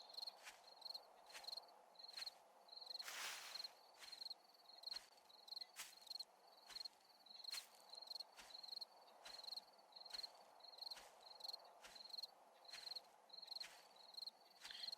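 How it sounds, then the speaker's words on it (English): Crickets chirp steadily at night in the video game 7 Days To Die, in short repeated pulses against a quiet background, with a faint brief rustle partway through. "you can tell it's getting later because I'm hearing crickets"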